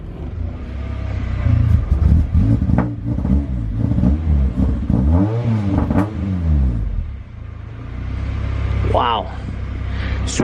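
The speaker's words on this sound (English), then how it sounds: "really quiet at idle, but it is massively, deeply loud" A K-swapped Honda CRX with a full 3-inch exhaust is revved repeatedly near the microphone, the deep exhaust note rising and falling in sweeping pulls over a steady rumbling idle.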